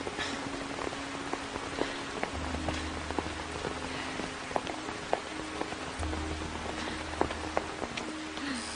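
Steady rain patters on a surface, with scattered drops ticking through a soft continuous hiss, quiet and without voices.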